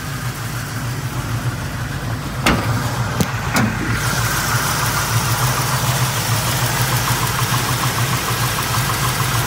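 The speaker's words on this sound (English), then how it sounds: "The car is idling right now." A 1969 Chevrolet Camaro X44 coupe with a 350 V8, headers and MSD ignition idles with a steady, slightly loping rumble, close and continuous, with a few sharp clicks or knocks early on.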